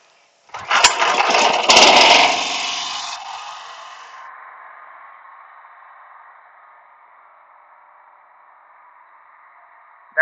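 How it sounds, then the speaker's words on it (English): Small gasoline pressure washer engine catching on a single pull cord start, a rough burst that quickly settles into a steady idle drone, close and loud with no talking. "I'm going to turn on the pressure washer."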